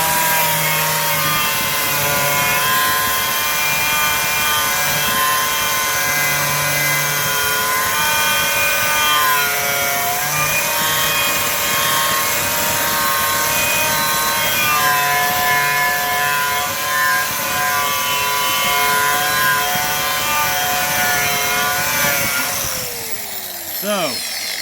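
A rough modern skillet being ground down toward a mirror finish with a power tool, giving a loud, steady high-pitched whine with strong harmonic tones that runs unbroken for about twenty-five seconds before winding down at the end.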